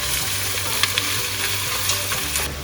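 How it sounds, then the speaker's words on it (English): Apples sizzle and crackle steadily in hot oil in a pan, with occasional scraping stirs against the pan. "So now that that's frying"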